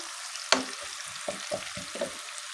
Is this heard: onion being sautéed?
yes